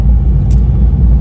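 Loud, deep car exhaust rumble droning steadily and close by, with no pauses.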